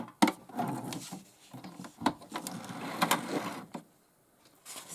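A mini portable sewing machine stitches a zigzag pattern in short, uneven mechanical bursts of clicking and whirring, close and fairly quiet, with a brief pause near the end.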